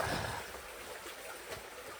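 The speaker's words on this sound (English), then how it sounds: "you've got this nice waterfall type thing going on" A small waterfall inside an abandoned mine gives a steady broadband rush of falling water with a faint splashing texture, moderately quiet and without voices.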